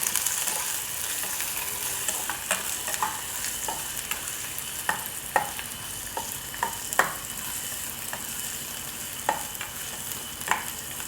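Onions sizzle steadily in a hot pan, a continuous frying hiss with scattered spatters and repeated scrapes of a spatula stirring them, close up and with no talk.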